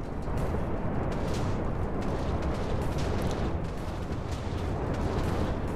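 Nuclear explosion in the Minecraft HBM Nuclear Tech mod, a dense, continuous roaring blast rumble with crackling bursts, loud and sustained throughout with no talking.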